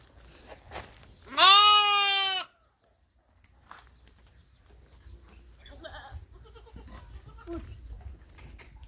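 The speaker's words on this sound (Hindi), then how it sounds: "चलिए और बकरियां है" Goats at a farm before milking give one loud, drawn-out bleat of about a second near the start, followed by quieter rustling and faint movement sounds.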